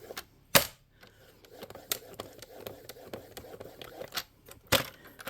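A scoring tool pressed and drawn across paper on a junk journal with the binding attached, giving sharp clicks and snaps, a few loud, amid soft scraping and rustling, close up.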